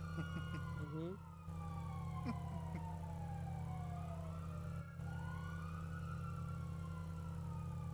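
A police car siren in GTA V, sweeping up and down in repeated wails over a steady engine drone, fairly prominent throughout with brief dips in level.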